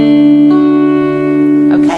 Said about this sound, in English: So just have a go at plucking those strings again